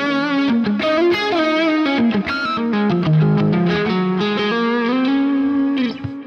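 Distorted electric guitar played through the Archetype Nolly amp plugin, a loud, continuous run of ringing chords and sustained notes for the whole stretch, heavy with effects and a slight shimmer.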